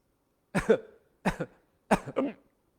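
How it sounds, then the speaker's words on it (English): Three separate coughs, evenly spaced with pauses between, close and fairly loud in an otherwise quiet room. "Let's cough a little bit."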